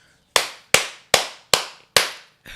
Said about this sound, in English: I always clap.